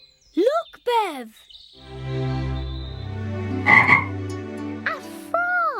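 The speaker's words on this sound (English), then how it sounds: "A frog!" A cartoon frog croaks inside a hollow log, giving a deep, droning, resonant croak with a long echoey tone, framed by short swooping voiced calls.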